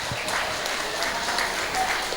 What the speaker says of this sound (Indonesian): Tepuk tangan Bapak Ibu semuanya.